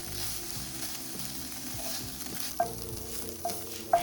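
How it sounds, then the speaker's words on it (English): Tofu crisping in a frying pan: an even, close hiss of hot oil that runs throughout, with three sharp clinks of a utensil near the end. "So you want to get this crispiness on the tofu, so leave it there for a while without moving it."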